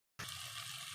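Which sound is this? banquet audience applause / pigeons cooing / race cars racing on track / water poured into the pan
water poured into the pan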